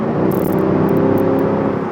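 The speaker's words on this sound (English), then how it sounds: "Just listen to that beautiful exhaust sound for a second." A Mercedes W211 E63 AMG revs inside a tunnel, its exhaust a loud, steady, deep drone that fills the space for about two seconds with no talking.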